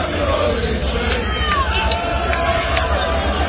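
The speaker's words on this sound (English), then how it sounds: "This is the mobilization of the soccer hooligan crowd." Crowd at a Tommy Robinson rally mills about outdoors in a broad, continuous babble, with scattered shouts and occasional whistles rising over the murmur.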